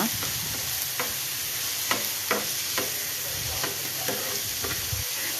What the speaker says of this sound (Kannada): ಈಗ ನಾನು ಮೂರು ಹಸಿಮೆಣಸು ತೆಗೆದಿದ್ದೇನೆ ಒಂದು ನಾಲ್ಕು ಈರುಳ್ಳಿ ಕಟ್ ಮಾಡಿ ಹಾಕ್ತಾ ಇದ್ದೇನೆ ಅದನ್ನು ಹಾಕಿ ಚೆನ್ನಾಗಿ ಫ್ರೈ ಮಾಡುವ